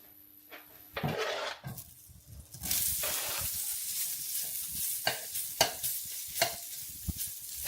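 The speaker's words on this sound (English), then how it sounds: "Fry off the chorizo in a little bit of olive oil." Chorizo frying in a little olive oil sizzles softly while it is stirred, with quiet scrapes and clinks of the pan at a camp stove.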